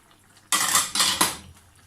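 A cooking pot is handled on the stove, giving three quick, loud metallic clanks and scrapes close by in about a second, with a quiet kitchen before and after.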